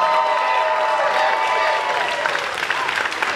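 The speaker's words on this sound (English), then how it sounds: "Give this kid a huge round of applause." A crowd applauds and cheers after a dancer's performance at a live Faraday cage show, a dense, steady wash of clapping and shouts close by, with a few voices mixed in.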